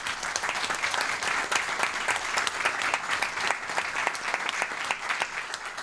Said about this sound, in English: I think these gentlemen deserve a round of applause